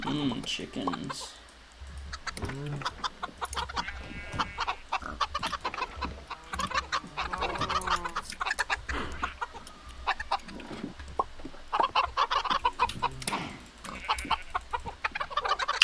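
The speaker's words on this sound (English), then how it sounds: "Chickens." Minecraft chickens cluck in short repeated bursts across the clip, moderately loud, with other game sounds and people talking over them.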